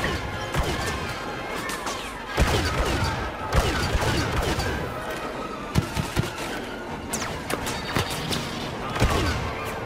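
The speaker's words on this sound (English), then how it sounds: "I can't stand the rocket fire" Rocket fire and explosions in the Star Wars Battlefront video game: repeated loud blasts, crashes and bursts of gunfire in an irregular barrage, with little talk.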